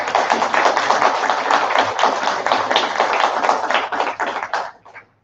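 Audience applause at a Wonderfest USA 2022 model convention for an Enterprise D model kit at 1000 scale, a loud, fast, steady patter of many hands clapping that tapers off at the end.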